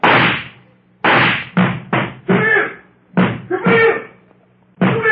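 Heavy knocking on a wooden door in an old radio drama, loud close bursts of pounding that come in irregular clusters with short pauses between.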